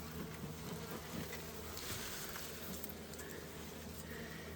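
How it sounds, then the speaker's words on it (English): Bees swarm around a big beehive of roughly 60,000 bees with honeycomb inside, giving a steady, faint, continuous buzzing drone with no pauses. "So this is a big beehive."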